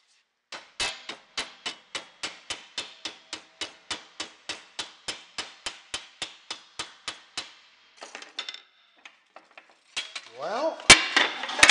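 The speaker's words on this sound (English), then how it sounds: "I'm going to bend this steel just a little bit below that line there, and I'm just using a couple pieces of angle iron in my vise." Steel for a snow blower rear guard is bent in a vise between two pieces of angle iron, with a long, even run of sharp metallic taps followed by scattered clanks and scraping.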